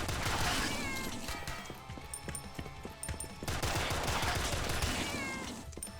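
Colt 45 pistol fire in the video game Rise of the Gorecats: rapid repeated gunshots over loud, dense game noise with creature yowls and cat-like screeches, continuous and close throughout.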